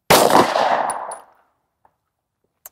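A single loud Sig P365 pistol shot firing Sig Sauer 365 V-Crown 115gr JHP ammunition, a sharp crack with a brief reverberant tail, followed by a faint metallic tick of brass landing.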